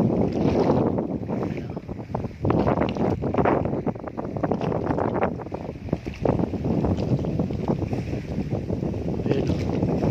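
Strong wind blows steadily at a seashore, a loud, continuous rushing roar buffeting the microphone, with no speech over it.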